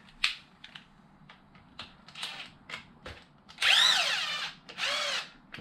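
A cordless power drill whirs in short bursts while backing out bumper screws on a Mojave, several brief revs with rising and falling pitch, close and fairly quiet against a faint background.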